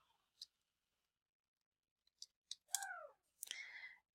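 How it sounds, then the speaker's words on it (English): Sparse plastic clicks from calculator keys being tapped, a few isolated presses at first and then quicker clustered taps near the end, faint and close in a quiet room. "So then I'm going to use our calculator."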